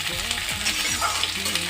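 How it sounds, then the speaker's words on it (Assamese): Onions frying in hot oil with bay leaf and dried chili, a steady close sizzle with light stirring, alone without talk. "পিঁয়াজখিনি দি ল'ব আৰু অলপ ৰঙচুৱা হোৱালৈকে এইখিনি ভাজি ল'ম।"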